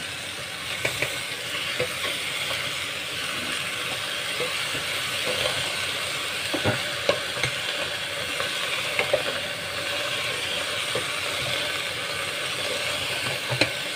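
Jackfruit with shrimp paste sizzles steadily in a pan for a dish of jackfruit cooked in coconut milk with anchovies, a continuous close frying hiss broken by occasional soft stirring clicks, with no voices.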